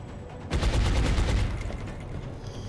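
A burst of rapid gunfire erupts in the XCOM video game, a loud rattling volley of shots that starts abruptly and then fades out into a lingering rumble.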